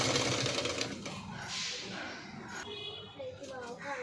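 Sewing machine stitching a boat neck dress, a steady close mechanical whir running throughout, with a voice talking over it.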